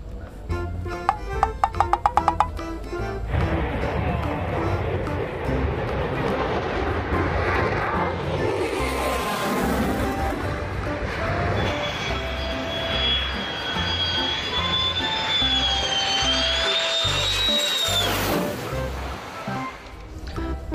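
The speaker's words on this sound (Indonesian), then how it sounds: "Wow, pesawat tempur." A loud fighter jet roaring continuously overhead, its engine tone rising into a high whine before fading, with a few clicks at the start.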